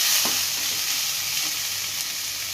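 Green chillies sauté in a pan with a steady, fairly loud sizzle and a few light stirring touches over a couple of seconds; nobody talks.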